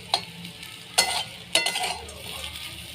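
Bitter gourd slices fry in hot oil in a pan over a wood fire, with a steady sizzle broken by three sharp scraping stirs from a spatula.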